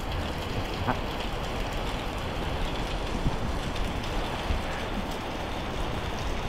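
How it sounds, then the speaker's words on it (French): Steady rain falls at day's end on a travel trip in Thailand, a continuous even hiss of drops with no talking, moderately loud throughout. "Il pleut."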